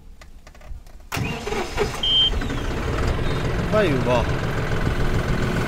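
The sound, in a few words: John Deere 5310 CRDI tractor engine starting and idling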